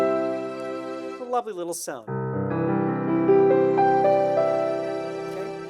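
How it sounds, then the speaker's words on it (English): Sustained chords from a Yamaha CLP-535 digital piano's CFX Grand voice layered with a soft string pad as a gentle melody rises; a voice speaks briefly near the start. "I have a CFX Grand and a string sound linked together."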